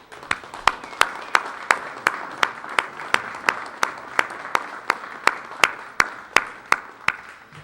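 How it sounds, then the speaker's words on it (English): An audience at the Granada Forum gives a speaker a round of applause, with one nearby clapper beating a sharp, even rhythm over softer clapping from the room. "let's thank Ted Gunderson one more time with a round of applause"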